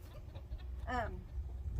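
A chicken gives one brief cluck, near and quiet, over low background noise outdoors.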